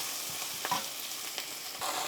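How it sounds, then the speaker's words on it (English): Beef stir fry with string beans, capsicum and carrots sizzles steadily in a pan after cooking wine is added, with occasional scraping stirs over the continuous frying hiss and no talk. "then you add the cooking wine, about 3 tablespoons of cooking wine."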